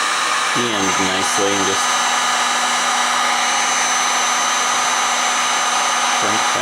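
A hair dryer blows hot air to shrink heat-shrink tubing over ATX power supply wiring for a 3D printer, a loud steady whoosh throughout, with someone speaking briefly near the start and end.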